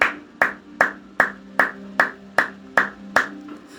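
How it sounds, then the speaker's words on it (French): Rhythmic hand clapping from a church congregation, sharp evenly spaced claps about every 0.4 seconds, loud and steady in unison, with a sustained tone underneath. "Acclamons pour la gloire de Jésus."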